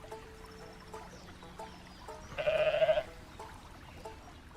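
A goat in Goat Simulator 3 gives one loud, clear bleat near the middle, standing out over quiet background music and faint game tones.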